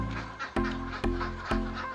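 Laying ducks quack inside their coop while eggs are gathered, the calls near and steady with three sharp knocks or clicks breaking through at regular intervals.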